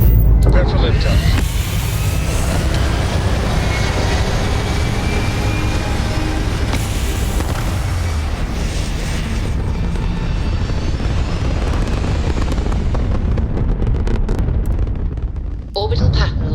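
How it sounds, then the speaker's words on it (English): Spaceship lifting off in the video game Starfield: a loud, sustained roar of engine thrust that builds at the start, holds steady for many seconds, then cuts off sharply near the end. "Prepare for liftoff."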